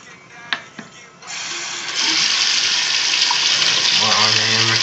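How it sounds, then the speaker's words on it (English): Water gushes from a tap, starting abruptly and running steadily and loud, after a few faint clicks. "Turn the water off."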